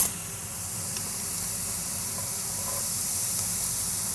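Chopped onion hitting garlic and ginger paste in a hot pan gives a steady, close hiss of steam and sizzle that holds evenly throughout, with no talking.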